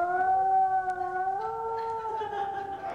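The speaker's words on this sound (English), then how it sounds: "that meant the werewolves would howl all" A werewolf howls under a full moon at night: a long, sustained tonal howl with a slowly shifting pitch, loud and alone for the whole stretch.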